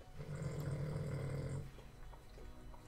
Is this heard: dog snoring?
yes